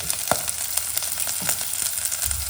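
Vegetables frying in hot oil while a pumpkin kuzhambu and poriyal are cooked, a steady close crackle and hiss with a few sharper pops and spatters.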